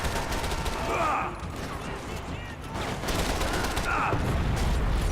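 FAL rifle fire in a video game, bursts of rapid shots mixed with mechanical clatter and game effects, loud and continuous over a few seconds.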